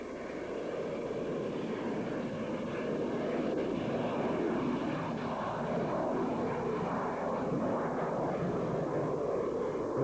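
A Harrier jump jet with its Rolls-Royce vectored-thrust engine gives a continuous loud roar, steady across the whole stretch with a slight swell, and no voices are heard over it.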